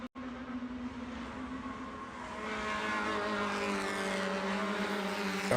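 Race cars roar through turns at Mid-Ohio during a Hoosier Super Tour road race, a steady loud engine drone that builds as the cars pass near, with no talk.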